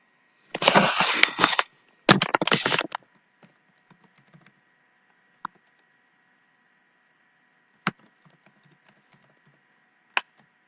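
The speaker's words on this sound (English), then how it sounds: "I'm about to type it in." Typing on a computer keyboard: two quick, close bursts of rapid key clatter, then a few isolated single key taps spaced out in near silence.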